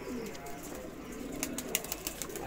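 Pigeons kept by a pigeon fancier coo softly amid light rustling and a few sharp taps and flutters, close by with no talk over them.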